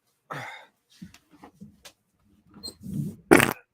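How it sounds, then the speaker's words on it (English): Short scattered bodily noises, rustling and breathy bursts, ending with a loud abrupt fart close to the microphone. "Sorry about that, guys. I had to fart."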